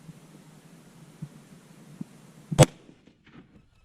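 A single sharp report from a .338 Lapua Improved rifle fired at a target rings out over a low background hum, followed by a brief fading echo.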